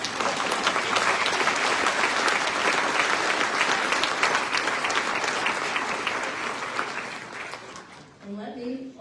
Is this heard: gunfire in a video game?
no